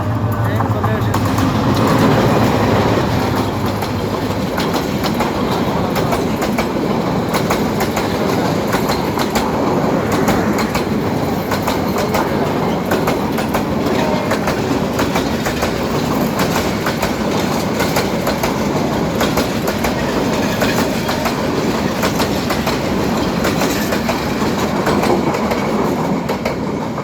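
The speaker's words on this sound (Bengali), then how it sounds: "আলহামদুলিল্লাহ ট্রেন চলে এসেছে" A train passes close by on the railway with a loud, continuous roar and rhythmic clickety-clack from the wheels that lasts nearly half a minute.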